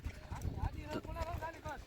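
Racehorses gathering at a small rewal (ambling gait) horse race in Dhrang, hooves clip-clopping steadily on the ground with a busy, uneven rhythm, mixed with crowd voices and a horse's snorts.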